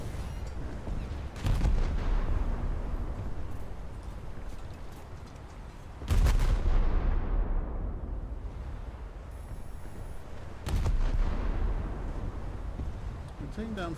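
A naval cruiser's volley against a battleship in a video game, heard as three heavy broadband booms roughly five seconds apart, each followed by a long rumbling decay over steady background noise.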